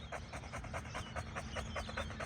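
An excited dog near cattle pants steadily in quick, rhythmic breaths, close and fairly faint, with no talk over it.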